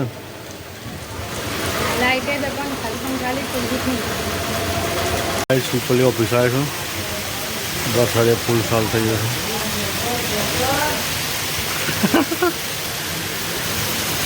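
Heavy rain pours down steadily, a dense, even hiss filling the scene while people talk over it throughout.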